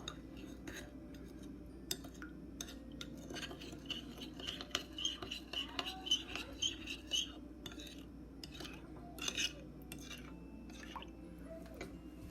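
Spoon stirring a sauce of white vinegar, sugar and cold tap water in a bowl, with soft repeated clinks and scraping against the bowl in an uneven rhythm, close and fairly quiet.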